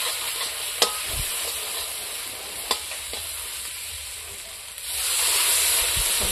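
Fish curry simmering in a pan after water is poured in, with a steady broadband hiss and sizzle throughout, a few sharp clinks of a spoon against the pan, and the bubbling swelling louder near the end.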